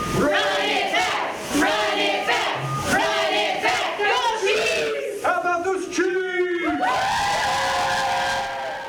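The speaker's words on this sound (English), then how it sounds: "That cheer coming from the University of Kansas Health System" Healthcare workers at the University of Kansas Health System cheering for the Kansas City Chiefs ahead of Super Bowl 55, a loud group of whoops and yells in repeated bursts, ending in a sustained shout.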